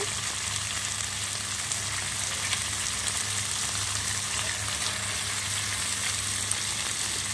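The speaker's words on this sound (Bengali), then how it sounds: "ডালটা দিয়ে বন্ধুরা মশলার সাথে আমি একটু ভাজা ভাজা করে নেব" Continuous loud sizzling as washed masoor dal (red lentils) fries with spices in a pan, a steady crackling hiss with no voices.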